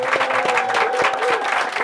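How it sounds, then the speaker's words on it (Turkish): Applause breaks out in a small group after a Turkish rap performance, quick overlapping claps with a steady tonal hum beneath, fairly close and sustained for a couple of seconds. "Alkışlar gelsin."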